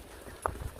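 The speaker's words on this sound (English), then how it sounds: "Honey and Zena, the horses." Hooves of two 27-year-old horses on a walk near Belmont and Egerton, a couple of soft clip-clop thuds in under a second, faint against a quiet outdoor background.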